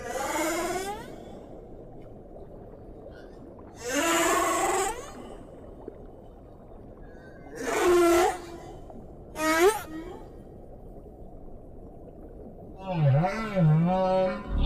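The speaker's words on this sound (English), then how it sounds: "The male humpback may sing for hours or even days." Humpback whale song: long moaning and sweeping calls rising and falling, spaced several seconds apart over a low rumbling underwater hiss.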